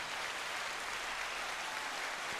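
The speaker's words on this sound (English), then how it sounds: "Just give him applause for it." Faint, steady clapping from a small group keeps up a soft, even patter for a couple of seconds with no voices over it.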